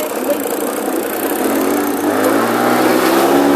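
A motorcycle engine runs steadily nearby, a continuous mid-pitched hum with a faint rising tone toward the end, no clear talk over it.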